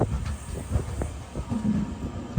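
Trivandrum Express pulling into Shoranur Junction station, a low steady rumble of rolling wheels and carriages with faint wind hiss, moderately close and continuous, no voices.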